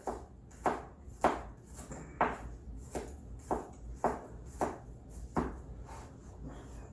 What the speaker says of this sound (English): let's get this all chopped up